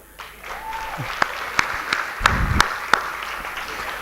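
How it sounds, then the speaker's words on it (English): A conference audience applauds, a dense patter of clapping with a few sharp, loud individual claps standing out near the front. "All applause for everybody."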